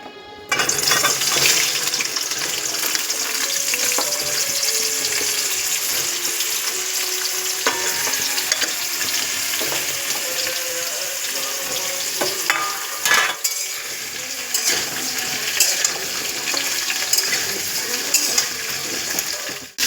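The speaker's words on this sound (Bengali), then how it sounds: "আগে আমি কুমড়ো পেঁপে গাজর লাল আলুটা ভেজে নেবো" Pumpkin, papaya, carrot and sweet potato frying together in a pan, a steady close sizzle and hiss with occasional stirring scrapes, continuous for the whole stretch with no talking.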